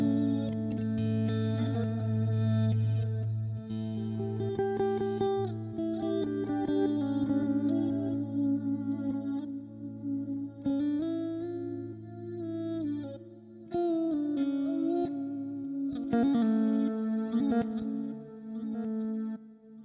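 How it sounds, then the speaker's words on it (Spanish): Electric guitar through a Line 6 DL4 delay pedal set with modulation. Chorused, wavering echoes trail each phrase, and the repeats layer into a shimmering wash that fades and returns, with no voices. "Además, si queremos, tenemos modulación."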